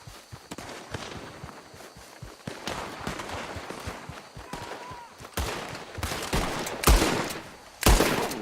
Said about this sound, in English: You're shooting across the raiders.